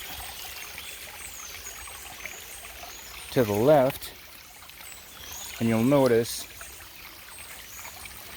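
Spring-fed stream water on a ranch garden plot with artesian springs trickles steadily in the background while a person speaks briefly twice over it.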